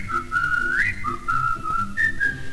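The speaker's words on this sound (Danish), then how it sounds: "En dreng spidser mund, og så fløjter han mod sky." A boy whistles a bright, steady melody in a 1954 Copenhagen march song, clear and close, with sustained notes and small pitch slides over a soft instrumental accompaniment.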